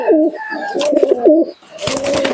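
Giribaz pigeons coo close by in repeated low, rolling phrases that break off briefly and resume, with a little bird chatter and faint background noise around them.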